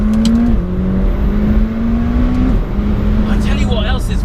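A McLaren 720S sports car engine revs and pulls hard, a loud steady drone that climbs and shifts in pitch, with a rising whine near the end.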